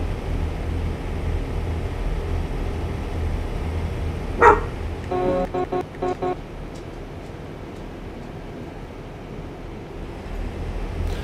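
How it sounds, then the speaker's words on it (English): A dog barks a few times indoors, a short sharp burst followed by several quick yaps, set against a steady background hum. "Sorry for my dog barking."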